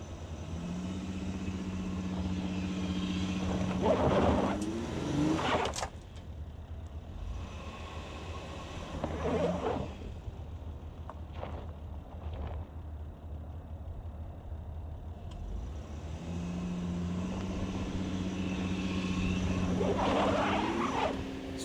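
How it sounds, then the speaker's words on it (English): The engine of a 2012 Honda Pilot with VTM-4 strains at full throttle up an off-road climb, droning and rising in long steady surges with a low rumble and brief lulls between pulls. "I have the pedal all the way down for this whole section, and then let off right there."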